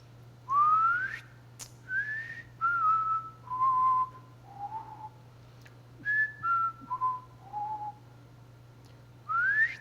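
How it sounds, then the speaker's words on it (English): A person whistles a series of short notes, some sliding upward in pitch, with a steady low hum underneath. "and then I'll whistle, you'll see the peak"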